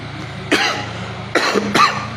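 A man with a bad cough gives three sharp, close coughs indoors, one early and two in quick succession near the end, over a low steady background hum.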